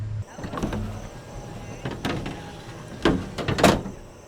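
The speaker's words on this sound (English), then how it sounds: "Got to get my window back up." An electric power window motor whirs inside the door of a Chevrolet Squarebody truck, raising the glass, with a steady mechanical hum broken by several sharp clunks and knocks from the door.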